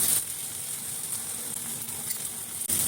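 Dried fish (shutki) frying in a pan gives a steady, even sizzle throughout, moderately soft and close, with a brief dip near the end and no talk.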